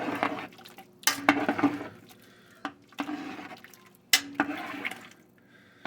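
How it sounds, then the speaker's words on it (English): A large spoon stirs chicken soup with carrots in a pot, giving wet sloshing and scraping bursts in about three separate strokes, close and fairly loud, with no talking. "Grab our ship's oar, Spoonzilla. Give this a good stirring in."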